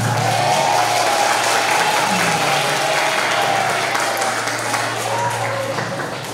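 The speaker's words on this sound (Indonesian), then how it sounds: "Tepuk tangan untuk perempuan." An audience at an Islamic law consultation session claps in a steady, fairly loud round of applause that tapers slightly toward the end, with a faint sustained tone and a brief voice beneath it.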